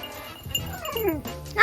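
Dogs being fed on a goat farm, giving short excited whimpers and yips close by, with people talking over them.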